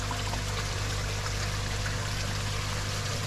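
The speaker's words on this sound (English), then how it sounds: "So the water basically falls through the middle, and then larger debris gets stuck in the mesh" Pond water falling through a 250 micron mesh sieve filter, a constant close rushing and trickling wash with a steady low hum underneath, unbroken throughout.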